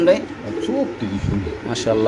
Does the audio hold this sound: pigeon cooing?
yes